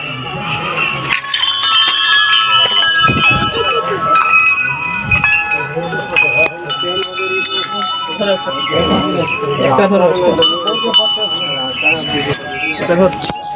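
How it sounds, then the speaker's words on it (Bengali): Temple bells at a puja site in Jharkhand ring and clang repeatedly, loud and close, over a busy background of people talking and moving about. "এখানে ঘন্টিগুলোকে বাজাও"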